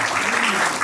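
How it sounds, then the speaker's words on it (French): Guests applaud the groom at a civil wedding ceremony, a brief dense patch of steady clapping heard at close range. "Et on applaudit pour lui."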